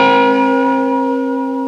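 Two sustained guitar notes ring out together, bright and bell-like, slowly fading over a short span with no voices.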